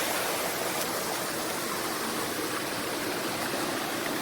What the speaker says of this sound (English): And there is an upper waterfalls.